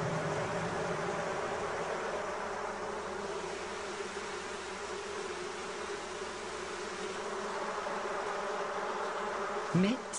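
Honey bees hum around a hive in a continuous, even buzzing drone at moderate loudness, with a short knock near the end.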